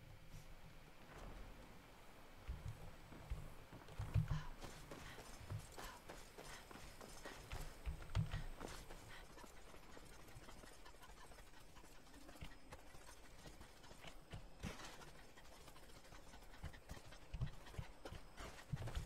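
Horse hooves clip-clopping in the video game Skyrim, faint, uneven footfalls plodding on and off across a quiet background with no talking.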